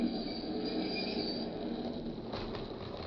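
A train runs along rails in an old 1940s radio drama, a steady low rumble of wheels with a thin high squeal above it, moderately loud and continuous with no talk.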